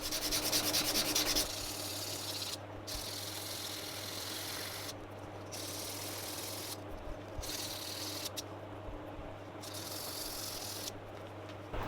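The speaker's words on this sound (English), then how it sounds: "to replace the sandpaper when it gets too dirty, otherwise it won't buff anything" Sandpaper rubbed steadily against leather edges, a continuous dry scratchy buffing with brief pauses, close and fairly quiet, with no talking.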